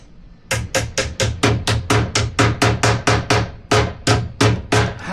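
Sharp hammer blows strike in a fast, steady rhythm while installing a 1969 Corvette convertible top, nearly twenty hits close by, with one brief pause midway.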